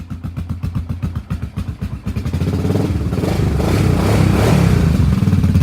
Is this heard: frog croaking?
no